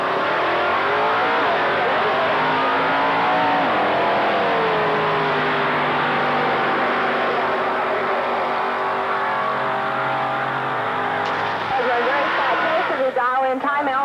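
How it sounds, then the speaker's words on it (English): Early-1980s drag racing cars at Motion Raceway roar loudly down the strip, a sustained high-revving engine scream with rising and falling pitch sweeps, fading slightly before a crackle near the end. "That's very good drag racing."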